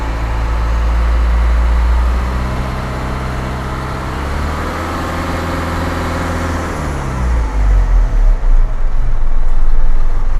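Isuzu NPR Pro truck engine being started, a loud rumbling diesel that cranks and settles into a steady low idle, with a short throaty surge of revving near the end.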